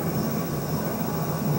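A Gulfstream III jet arriving at an airfield gives a steady, even roar of engine noise, moderately loud and unchanging throughout, with no voices.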